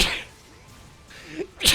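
A single sharp sneeze comes right at the end, close and loud, after a short quiet pause with faint breathing.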